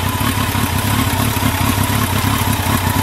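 A 1982 Yamaha Seca 650 Turbo motorcycle engine idling, a loud, close, steady rapid mechanical putter with a rough, even pulse throughout.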